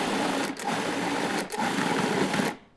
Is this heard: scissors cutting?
no